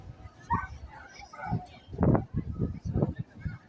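Dogs at a Minnesota state fair dog show give several short barks and whimpers at close range, mixed in with people talking nearby.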